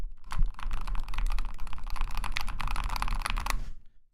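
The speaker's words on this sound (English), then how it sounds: "because I got a new mechanical keyboard. It's a Keychron K10HE." Rapid clicky typing on a Keychron K10HE mechanical keyboard, close and steady for about three seconds with dense overlapping keystrokes, no voices.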